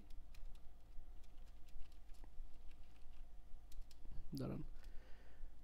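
Quiet clicking of keys on a computer keyboard while writing text and pressing Enter, light irregular taps over a low background hum, with a voice faintly present.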